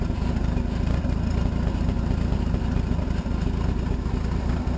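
A rebuilt Frankentruck engine runs at a steady idle, its low, even rumble continuous and close with no revving and no voices.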